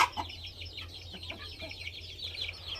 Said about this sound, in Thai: ไก่ก็จะจิกจิกกินนะครับ